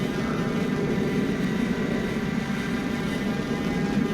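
A WLToys F959 Sky King RC airplane in flight gives a steady, jet-like whirring drone from its propeller motor, constant and unbroken, heard at moderate distance with no talk.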